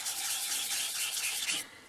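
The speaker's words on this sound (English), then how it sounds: "I use a bit of well-used, actually this is 800 grit, just something a bit finer when you're getting into the corners" Hand sanding of very thin aluminium with 800 grit sandpaper in the corners of a 1934 Pacific Model 107 radio, a close, brisk hiss of quick rubbing strokes that stops abruptly near the end.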